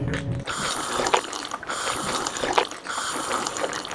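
Water runs steadily from a tap in a kitchen, a continuous splashing pour with small gaps.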